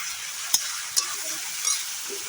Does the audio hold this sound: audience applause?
no